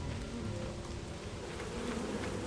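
Bees buzzing in the video game Lethal Company in a flooded area, a dense, continuous swarm drone that holds steady and fairly loud throughout, with no voices over it.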